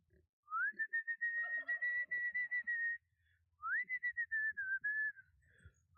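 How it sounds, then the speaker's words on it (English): A person whistles long sustained tones to a group of emus, two rising then gently falling phrases with a short pause between, clear and close against a quiet background. "These emus love when she starts whistling."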